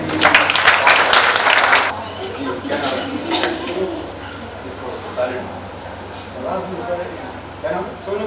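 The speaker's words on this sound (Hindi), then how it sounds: "ताली बजाइए इनके लिए।" Audience applause at a nursing college gathering, a loud burst of dense clapping in the opening two seconds that cuts off as a person starts talking, with murmuring and scattered noise continuing underneath.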